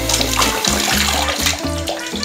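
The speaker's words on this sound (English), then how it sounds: "I believe I can turn this on. Get that water flushed out of there." Water running from a newly installed bathroom faucet, a loud steady gushing stream with a low pulsing tone beneath it, close and unbroken, with no talk.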